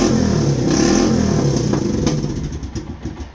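A classic Suzuki GN250 motorbike, a barn find that sat for 15 years, revs loudly and up close with no choke, its engine roaring and clattering in quick bursts before easing off toward a lower, choppier idle.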